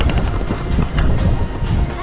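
Outdoors at Ram Jhula in Rishikesh, wind buffets the microphone in a loud, continuous low rumble with uneven gusting surges, and nothing else stands out.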